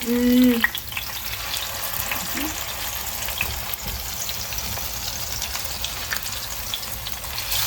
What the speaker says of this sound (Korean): 기름이 막 튀어.